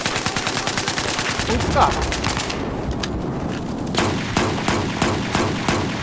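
Rapid gunfire in Battlefield 4 rattles in a steady burst for the first few seconds, then sharper single shots crack out at intervals, with someone speaking briefly over the firefight.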